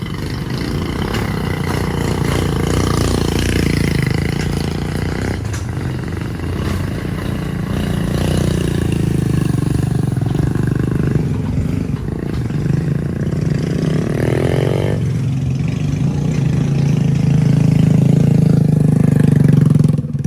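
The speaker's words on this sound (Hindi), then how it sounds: "अब ये लोग जो इसके ऊपर हैं ये उतरेंगे नीचे बाइक्स पे" Motorbikes rolling off a ferry at a river crossing in Vietnam: a continuous, loud mix of idling and revving small engines, with several machines rumbling close by and swelling toward the end.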